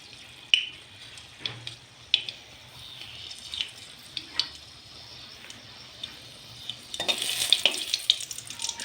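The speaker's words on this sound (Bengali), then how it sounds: "সরষের তেল দেওয়ার পরে তেল গরম হয়ে গেছে, এবার শুকনো লঙ্কাটা দিয়ে দিলাম।" Dried red chillies fry in hot mustard oil in a pan, with scattered crackles and sputters that grow into a denser sizzle toward the end, heard close up with no talking.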